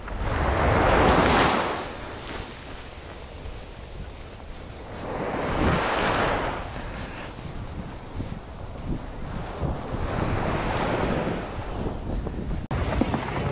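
Ocean waves wash onto the beach at English Bay, Vancouver, in winter, rising and falling in broad surges under steady wind noise on the microphone, with no talking.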